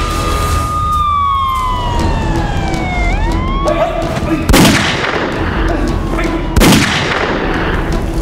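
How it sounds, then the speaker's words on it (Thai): Gunshots ring out in a tense police standoff scene, with two sharp loud bangs a couple of seconds apart following a wailing, descending siren-like tone. "ผมได้ยินเสียงปืนนะครับ"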